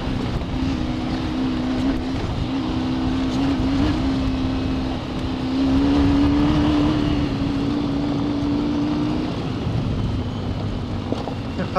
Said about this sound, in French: je vois qu'il donne des gros coups de gaz